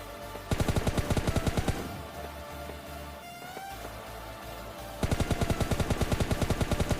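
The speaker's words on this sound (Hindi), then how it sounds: "अब तुम मिनी मैप पे नोटिस करोगे तो आसपास जो है कुछ गन के साउंड आ रहा है" Gunfire in PUBG Mobile Lite rattles in rapid automatic bursts, loud and close, runs for over a second, drops to a quieter stretch of distant shots, then resumes in another steady rapid burst.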